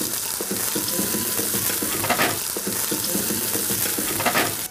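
Onions fry with salt in a pan alongside dried red chilli, green chilli and curry leaves for aloo mutton kurma. A steady close sizzle runs under rhythmic scraping stirs that repeat in quick bursts.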